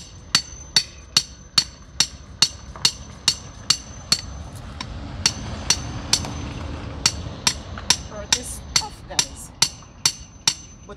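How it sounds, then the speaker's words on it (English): Steady hammer blows on driftwood being fixed with steel nails for a garden feature, roughly two strikes per second, sharp and close with a ringing metallic edge, continuing alone for about eleven seconds. "And I'm going to be needing my hammer."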